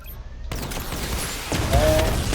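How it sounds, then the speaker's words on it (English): A Batmobile-style missile barrage fires in Batman: Arkham Knight, a burst of rapid booming launches and blasts, with a second louder salvo midway, amid game effects. "Charge the missile barrage to level 2 to destroy up to 4 targets at once."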